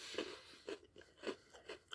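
Crisp bites and crunches of a Cinnamon Bun Oreo cookie, roughly five or six close snapping chews in quick succession, faint and alone without talk.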